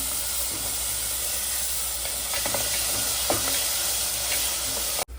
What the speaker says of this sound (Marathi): मीडियम साईजचे तीन कांदे घेतलेले आहेत आणि मग आता शिजवून घ्यायचं आहे